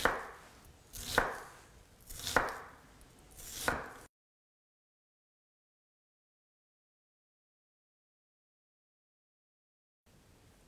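Onion sliced with a fairly large kitchen knife on a cutting board, about four crisp cuts in a steady rhythm, close and clear, followed by a long silence and a faint return of sound at the end.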